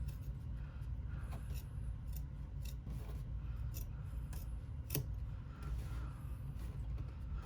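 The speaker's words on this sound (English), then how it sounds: "Applique scissors, and you want to try and trim this as close to that bean stitch as you can get without cutting into it." Appliqué scissors trimming fabric close to a bean stitch, with repeated soft snips and rubbing over a low, steady background rumble.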